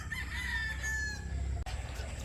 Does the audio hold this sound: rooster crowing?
yes